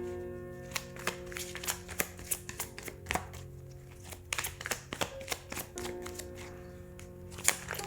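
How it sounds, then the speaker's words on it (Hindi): Tarot cards being shuffled by hand, a quick run of crisp riffling snaps and soft slaps in an irregular rhythm, close and fairly clear over a faint steady background hum. "सो हम सबसे पहले कार्ड शफल कर लेते हैं"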